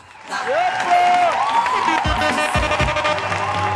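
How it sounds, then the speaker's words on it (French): An audience at a live bikutsi show breaks into applause and cheering that swells in after a quiet start and stays loud, mixed with a sung vocal line and thumping beats. "Maximum d'applaudissements encore pour elle, s'il vous plaît."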